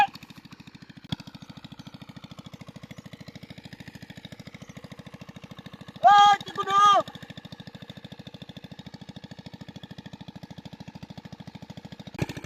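A pond pump machine engine runs steadily by a pond, a constant low throbbing drone throughout with a brief burst of louder chirping noise near the middle.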